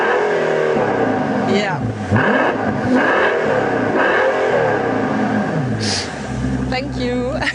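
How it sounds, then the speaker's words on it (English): A 2016 Mercedes-Benz S65 AMG Coupe with a V12 biturbo engine revs in several rising and falling sweeps close by, with a brief spoken word near the end. "which provides wonderful V12 music to your ears"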